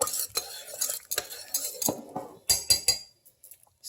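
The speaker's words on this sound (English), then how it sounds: "I'll stir all of that up." A spoon stirs chopped onions and fresh minced garlic in a crockpot, giving a quick run of close clinks and scrapes against the pot that trails off into quiet at the end.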